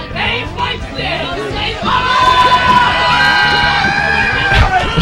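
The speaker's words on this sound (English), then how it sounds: "The whole crowd screaming." A tournament crowd shouts and cheers loudly, a dense mass of overlapping voices that swells partway through and stays heavy to the end.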